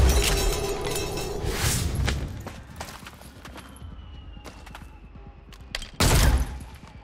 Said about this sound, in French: On me tire dessus, mais c'est mal visé.